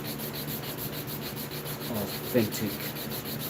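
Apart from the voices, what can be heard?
sanding wood with 120 grit sandpaper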